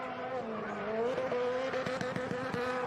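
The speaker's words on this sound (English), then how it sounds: "you can hear him just fettling the throttle, can't you?" Race car engine at the Velocity Invitational revs and warbles as Travis Pastrana feathers the throttle through a slide, a loud, close, sustained note with rapid stuttering blips toward the end, with commentators talking over it.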